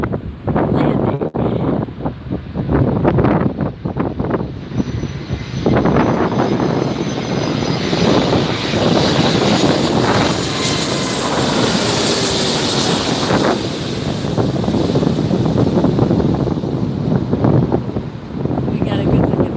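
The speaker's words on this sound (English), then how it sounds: "We got a good look at that beautiful Hawaiian Airlines Airbus 330. Touch it down." A Hawaiian Airlines Airbus A330 landing at LAX roars close by, its jet engines building to a broad, loud rumble and whine as it passes overhead, with wind buffeting the microphone and voices speaking over it.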